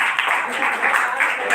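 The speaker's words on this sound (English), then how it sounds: "All of you give clap for her." A group of children claps in a dense, steady patter, close by, with a voice talking over it.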